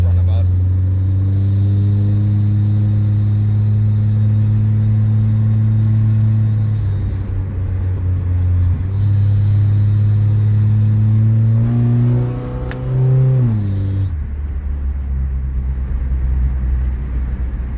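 A PT Cruiser running Megasquirt engine management and a manual valve body on a test drive: a loud, steady engine rumble that shifts pitch as it accelerates, rises around a gear change, then settles to a lower idle-like drone.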